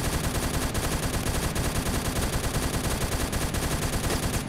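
Sustained automatic gunfire in the Roblox shooter Phantom Forces, loud and dense, with rapid continuous bursts filling the whole stretch and no speech over it.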